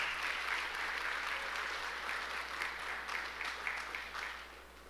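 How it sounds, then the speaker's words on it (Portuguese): A church congregation applauds in a steady, dense wash of clapping that holds for several seconds before tapering slightly at the end, with no voices rising above it. "Você pode aplaudir Jesus bem mais forte."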